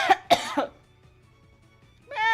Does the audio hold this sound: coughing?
yes